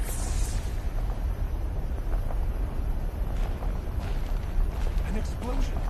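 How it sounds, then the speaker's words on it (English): A loud, rumbling explosion in a video game set during the defense of a palace, a dense, sustained roar with wind-like noise filling the whole clip. "Another explosion."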